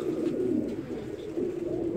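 A pigeon coos nearby in a steady low warbling murmur, repeating through the moment with no speech over it.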